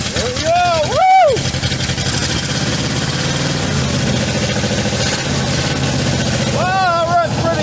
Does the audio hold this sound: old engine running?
yes